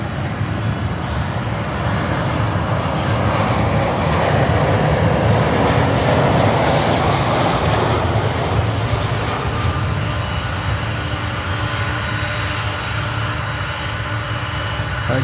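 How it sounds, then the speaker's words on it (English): A Martinair Boeing 747-400 cargo jet's engines roar loud and steady on the runway at Miami, a continuous broad rumble that swells slightly midway and carries on without a break. "this is the one and only leftover 747 in the Martinair fleet. A 747-400"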